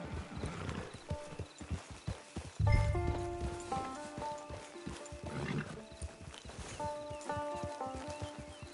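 Steady clip-clop of horse hooves walking in Red Dead Online, close and rhythmic, with a short whinny partway through and light background music.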